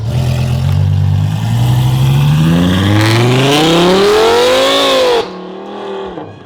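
A loud, close Lamborghini Huracan with an F1 exhaust revs upward, its pitch climbing steadily into a high scream before dropping off sharply, then a brief lower burble.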